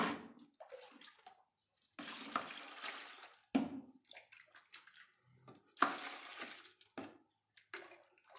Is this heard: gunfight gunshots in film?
no